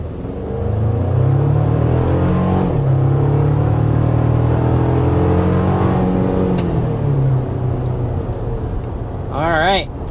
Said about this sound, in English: So first acceleration with the Limited Tacoma. This is the iForce powertrain